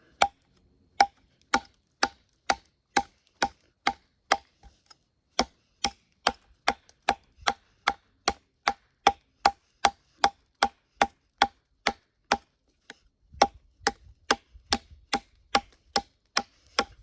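Sharp, regular knocks of a Heavy Set Knife Co Hunter 6 knife chopping wood, about two per second, crisp and close, with a short pause partway and faint rustling near the end.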